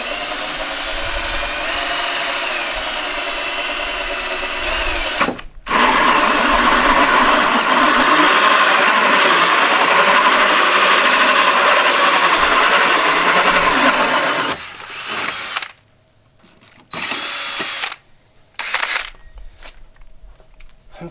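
A drill fitted with a hole saw from a decades-old kit cuts through T1-11 siding, giving a loud, continuous grinding whine broken by a brief pause, then stopping and starting in short bursts near the end.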